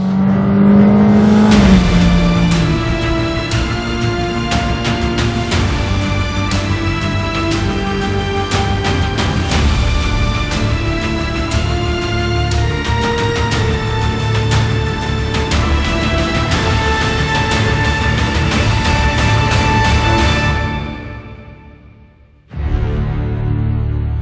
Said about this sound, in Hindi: और ये मैंने दिया फुल थ्रॉटल